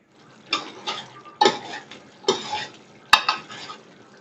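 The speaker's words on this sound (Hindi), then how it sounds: "इस मसाले को एक जान करने के लिए हिलाते हुए हम पकाएंगे थोड़ी सी देर जी।" Masala being stirred in a pot during cooking for chana dal pulao, with a few distinct scraping and clinking strokes of a spoon against the metal, spaced irregularly over a low background.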